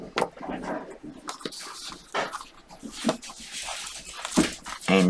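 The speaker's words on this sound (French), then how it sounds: "Et une dégringolade avec les chiens qui arrivent en courant." Dogs come running in, whimpering and yipping in short, scattered bursts amid thumps and patters, fairly close in a quiet indoor room, with no voices.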